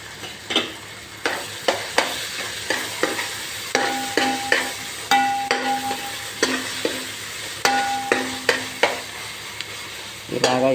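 Ginger paste frying in a pan for mint tomato rice, a soft sizzle broken by a steady run of sharp spatula knocks and scrapes against the pan, close up with no talking.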